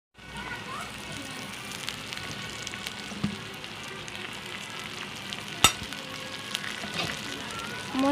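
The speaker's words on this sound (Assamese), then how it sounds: "এতিয়া মই চিকেনখিনি কেৰাহীত দিম" Chicken fries in a kadai with a continuous dense sizzle. Occasional spoon scrapes and clacks break it up, including one sharp knock midway.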